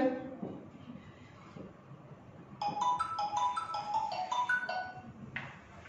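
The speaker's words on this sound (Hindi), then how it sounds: "यदि बार बार फोन डिस्टर्ब कर रहा है" A mobile phone ringtone plays a quick melodic series of bright electronic tones for a few seconds after faint background talk, moderately close in a room.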